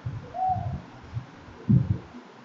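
Birds call outdoors with soft, low hooting notes in a few separate bursts, fairly close and clear against quiet surroundings, with no speech.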